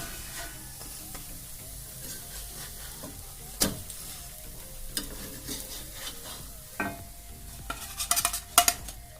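Bajra flour pudla frying in a pan, a steady soft sizzle with occasional utensil clinks and scrapes, a few sharper clatters near the end, close and alone with no talk.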